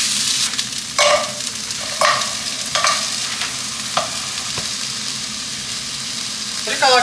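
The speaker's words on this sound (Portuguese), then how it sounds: "Daí agora a gente vai colocar aqui a cebola, alho, pimentão e tomate." Onion, garlic, bell pepper and tomato, some still frozen, sizzle steadily as they fry in a pan, with a spoon stirring and scraping in repeated strokes every second or so.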